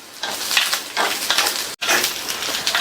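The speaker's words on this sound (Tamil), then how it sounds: "இப்ப முள்ளங்கி வெங்காயம் ரெண்டுமே நல்லா வதங்கி வரட்டும்" Radish and shallots sautéing in a pan for a radish pachadi side dish: a steady, close hiss and crackle of frying with faint stirring scrapes, briefly cut off once before resuming.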